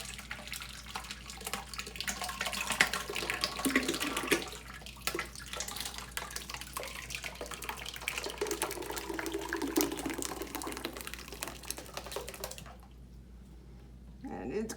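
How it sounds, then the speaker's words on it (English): Thick cinnamon oatmeal cold process soap batter pours and splashes into a large mold, a continuous wet gushing that briefly thins out and fades near the end. "So we're pouring the soap."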